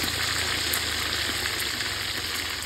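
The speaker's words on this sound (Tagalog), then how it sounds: "Ayan na, piniprito ko na yung daga." Field rat frying in hot oil, a dense, continuous sizzle that stays steady and fairly loud throughout, with faint crackles and no voices.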